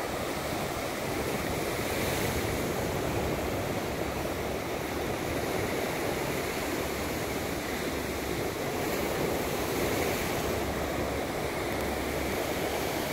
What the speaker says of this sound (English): The ocean can be calming, but also it's powerful, so definitely gotta respect it.